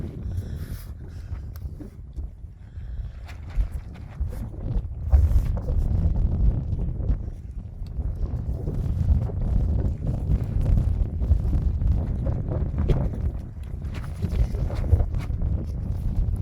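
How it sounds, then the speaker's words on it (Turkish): Steady wind rushes and buffets the microphone with low rumbling gusts outdoors behind a house during exterior plastering work, continuous throughout and fairly loud. "Rüzgar iş yaptırmıyor rüzgar."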